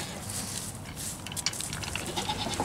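Goat bleating in a barnyard among other farm animals, a moderately loud, close cry over a constant background hiss, with no talk.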